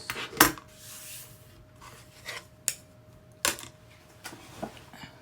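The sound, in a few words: trimming a small piece of fabric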